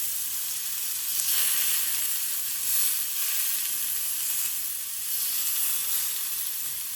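Skirt steak sizzles steadily in a hot cast iron pan, a loud, even hiss that swells slightly now and then and runs without a break, with no voices over it.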